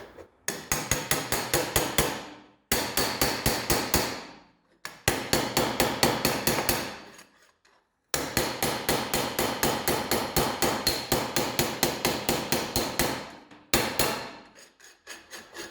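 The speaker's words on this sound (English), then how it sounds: "get my hammer, if I can tap this back into round here" A hammer taps a Porsche 911 CV axle part back into round: rapid, even metallic strikes in several bursts of a second or two each, separated by short pauses, loud and close with no talking.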